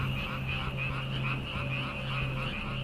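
Swamp frogs croak together in a dense, evenly pulsing chorus that holds at a steady level throughout, over a low droning hum, with no one speaking.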